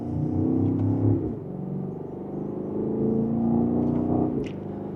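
A 2026 BMW X5 M60i in Sport Plus mode accelerates in second gear with a steady, throaty engine rumble that swells, dips briefly at a shift, then builds again, heard from inside the cabin.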